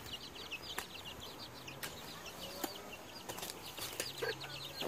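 Chickens cluck and chirp in short repeated calls outdoors while hunting for worms, with scattered sharp taps and rustles under a steady background hiss.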